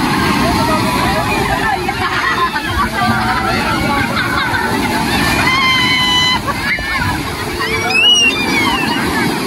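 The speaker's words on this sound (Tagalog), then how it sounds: "Ang laki ng alon!" Big sea waves surge and crash in a continuous, loud rush of surf and sloshing water, heard close by under the excited chatter of several people.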